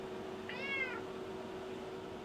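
A house cat gives a single short meow, a rising-then-falling mew lasting about half a second, fairly faint over a steady electrical hum in a quiet room, with no talking.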